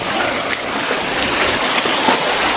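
Floodwater rushes through a flooded piggery farm, a steady broad wash of flowing water with faint splashes, close and continuous.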